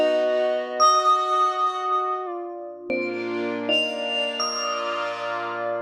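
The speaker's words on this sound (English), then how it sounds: "the sound of our ice bells is not changing" Ice bells texture in Maschine rings out as bright sustained chime tones, clean and loud, shifting through several chords with glassy tinkling overtones and no voices.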